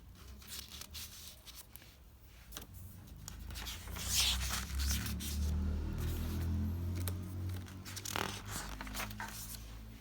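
A pen or marker scratches across paper or a board during an accountancy class, a soft scratchy rustle that swells in the middle and then trails off with light handling noise, and no speech.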